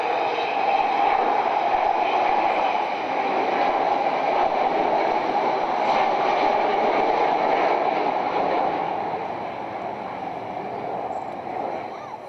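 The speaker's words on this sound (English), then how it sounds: "As she comes round again, we'll see the bomb bay closing" Avro Vulcan XH558 bomber passing overhead at an air show, a steady broad jet roar with a droning mid tone that holds for the whole span and eases slightly toward the end, distant but powerful.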